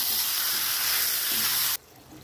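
Marinated chicken frying and being stirred in spice masala in a pan for palak chicken curry: a loud, close hissing sizzle runs steadily, then cuts off abruptly near the end, leaving quiet.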